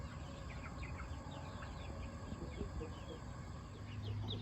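Six-week-old chicks cluck and chirp around a bucket feeder, a steady scatter of small calls over constant background hum and noise.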